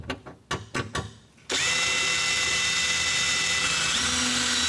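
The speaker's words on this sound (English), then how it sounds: "Grab a small drill." A small power drill bores a pilot hole through a car's steel floor pan during a floor shifter install for an LS engine swap, starting with a few short bursts and then running into one loud, steady whine.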